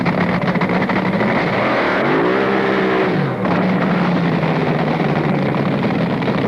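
A front-engine dragster at an NHRA drag strip, driven through a bath of household bleach to clean its tires, roars loud and unbroken, the engine pitch climbing briefly as it revs, then settling back into a steady blare.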